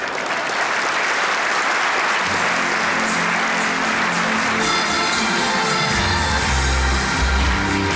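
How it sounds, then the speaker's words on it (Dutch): A theater audience claps at a Dutch comedy show, loud sustained applause that turns rhythmic partway through, with low musical tones entering underneath toward the end. "U gaat er niet ritmisch mee zitten klappen."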